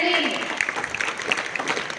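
Brief clapping from an audience applauding the winners of a school cabinet election, short and moderately loud under a speaking voice.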